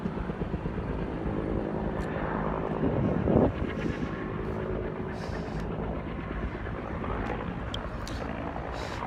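A helicopter flies over a wildfire zone in El Dorado County, a steady broadband rotor and engine rumble that swells briefly near the middle and otherwise holds at a constant, moderately distant level.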